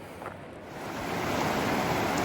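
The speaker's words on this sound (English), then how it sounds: "So the campground's right here along the river, which is always a wonderful sound." A campground river in spring flows with a continuous broadband rush that swells slightly louder partway through, steady and fairly close, with no voices over it.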